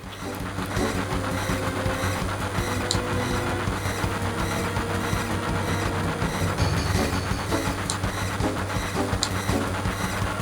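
A train in Final Fantasy VII Remake rolls along with a dense, continuous mechanical rumble and clatter, loud and steady with occasional sharp metallic clanks mixed in.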